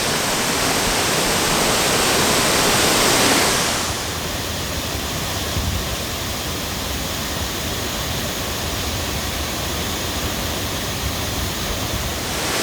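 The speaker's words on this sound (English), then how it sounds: "Well, that is a gorgeous waterfall, but I didn't realize there'd be so much mist, so much spray." Heavy mist and spray from a waterfall in a national park fill the air with a constant broadband roar, louder and brighter at first, then settling into a slightly softer steady rush.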